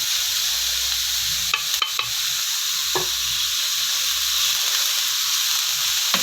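Chicken pieces drop into a hot pan of fried ingredients and sizzle steadily, with a few brief clatters as they land and get stirred. The frying hiss carries on alone throughout without any voices.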